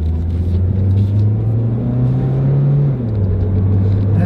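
Steady low roar of a car with worn front wheel bearings driving, a deep droning hum that rises slightly in pitch then drops back, continuous with no talking.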